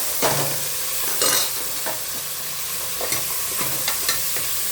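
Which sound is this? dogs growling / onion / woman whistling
onion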